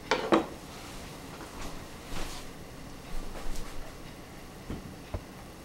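Beef sashimi slices set down on a presentation plate, a couple of soft clinks and taps near the start, then faint scattered light contacts against quiet room tone.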